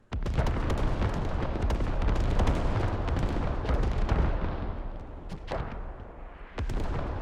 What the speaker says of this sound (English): So we see that arty trade just decimating.